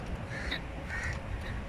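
Crows caw a few times at a moderate distance over a breezy outdoor background along a seaside promenade.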